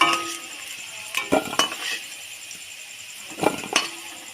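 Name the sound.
utensil clinking while lifting fried potatoes out of oil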